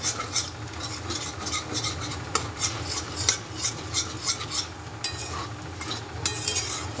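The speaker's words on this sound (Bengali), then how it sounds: "ডিমটা আমি এর মধ্যে দিয়ে দিলাম, আলাদা করে ভাজার কোনো দরকার নেই" Egg and potatoes frying together in a pan at home, with a steady close sizzle under repeated scraping, clinking stirs of a metal utensil against the pan, no talking.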